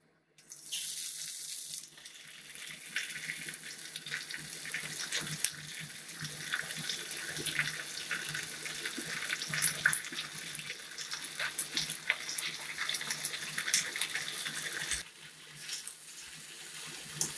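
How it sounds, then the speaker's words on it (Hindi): Fava beans and potatoes fry in oil in a wok, producing a steady, close sizzle and crackle with scattered pops, briefly dipping near the end before resuming. "कढ़ाई में थोड़ा तेल डालूंगा, और तेल डालने के बाद बस इतना काफ़ी है, और इसके बाद मैं सेम और आलू को फ्राई करूंगा"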